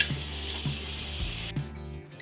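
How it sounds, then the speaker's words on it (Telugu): Drained bamboo shoots frying in a pan, a dense close sizzle with a few regular soft knocks of stirring, which cuts off abruptly near the end, leaving a quieter, thinner hiss. "దీన్ని ఒక ఐదు నిమిషాల దాకా బాగా ఫ్రై చేసుకోవాలి"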